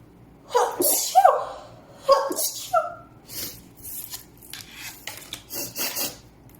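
A pair of sharp, close sneezes in quick succession, followed by rustling and scraping handling noises.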